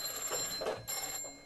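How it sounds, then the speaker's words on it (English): An old telephone bell rings, powered by a ringer dynamotor: a fast, rattling metallic ring in short pulses, fairly close and clear, with no one talking. "But if I connect this up, oh, it's ringing. The telephone is ringing."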